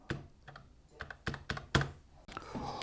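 Keycaps click and thunk as they are pressed back onto an RGB 104-key ultra-slim mechanical gaming keyboard. About half a dozen sharp, close taps come at uneven intervals, followed by a softer rustle.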